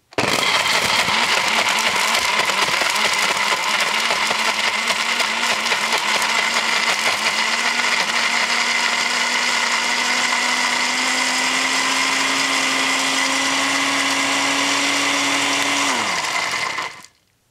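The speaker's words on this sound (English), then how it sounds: "So I'm going to push the liquefy button to try to make liquid soap out of it." A Blendtec blender on its liquefy setting grinds a bar of Irish Spring soap, a loud, steady motor whine that holds for about sixteen seconds before cutting off and spinning down.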